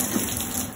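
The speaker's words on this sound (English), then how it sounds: "all you have to do is to turn this to the two red circles there, and the water comes on" A Triton electric shower starts running after its control dial is turned, giving a close, steady hiss of spraying water with a faint electrical whine above it, continuous for under a second.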